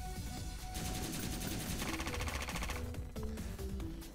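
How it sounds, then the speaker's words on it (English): Rapid machine gun fire in the video game Epic Battle Fantasy 5, a dense continuous rattle of quick shots running throughout over looping game music. "let's use machine guns"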